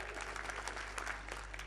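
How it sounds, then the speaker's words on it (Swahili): Applause from a crowd at a Madaraka Day 2019 celebration in Kenya, greeting the governor of Nyamira; steady, dense clapping throughout, fairly far off and moderately loud. "Tuko na gavana kutoka Nyamira, Mheshimiwa Nyangarama, mupigie makofi."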